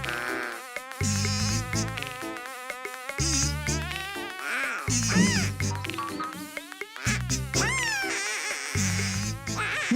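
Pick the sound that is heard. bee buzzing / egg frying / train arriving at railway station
bee buzzing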